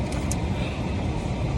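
Steady low rumble and road noise inside a moving car, continuous and close with no talking.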